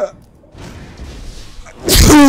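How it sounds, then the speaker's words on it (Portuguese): A man gives one loud, forceful sneeze near the end, close to the microphone, after a quiet stretch of low background noise during a ranked Smite duel match. "Espirro másculo"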